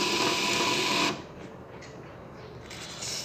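A bill printer runs a receipt with a steady whirring buzz for about a second, then falls to a quieter mechanical hum with faint ticks, alone without talk.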